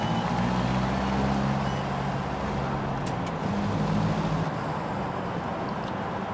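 A French car in Forza Horizon 5 with a six-speed gearbox drives slowly away from a festival, its engine a steady low drone that stays loud and continuous throughout.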